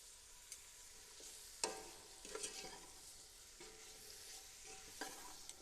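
Carrots and sugar being stirred in a pot for carrot and ginger soup, with a steady faint sizzle broken by several sharp scraping strokes of the spoon, close and alone.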